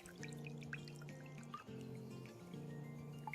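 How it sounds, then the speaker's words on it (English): Milk poured from a carton into a glass, a steady liquid trickle with a sustained ringing tone that rises slightly as the glass fills, short and quiet. "He pours the milk into a glass."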